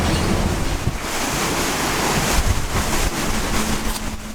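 Waves and wind rush over a Class40 racing sailboat at speed, a loud, continuous hiss of spray and gusts close to the microphone with no talk.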